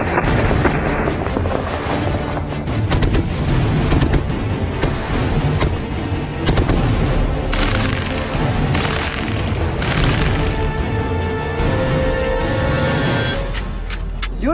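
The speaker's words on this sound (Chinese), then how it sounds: "所以考核刚开始，刘瑞佳就火力全开" A heavy machine gun fires during a live-fire training assessment beside a new Warrior assault vehicle. The shots come as loud, dense bursts of booming reports that run almost continuously.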